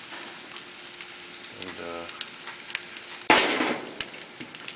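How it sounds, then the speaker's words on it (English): Pork chops searing on a hot Himalayan salt block with rosemary, a steady close sizzle under the clip with a brief word of speech, then a louder burst of hiss as another chop goes down. "you can hear that the block is still very hot, still searing nicely"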